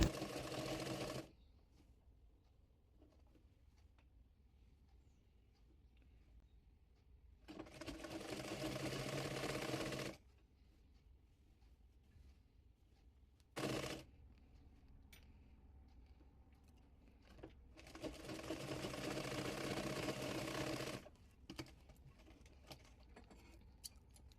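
A sewing machine stitches layers of a baby frock in three separate loud bursts of fast, whirring needle action, with near-silent pauses between runs.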